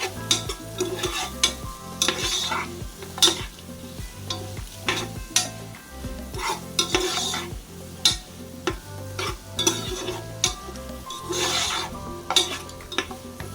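Whole green chillies being sautéed for Chennai-style biryani: a spoon scrapes the pan in quick, regular strokes over a soft, steady sizzle, close and without talk.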